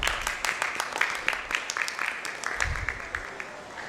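Scattered clapping from a crowd, a steady patter of many hands at moderate distance, with some faint background murmur.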